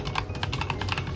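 Steady rapid keystrokes on an Ajazz AK820 Pro mechanical keyboard fitted with pink jelly keycaps, a close, continuous run of soft clacky presses with no voices.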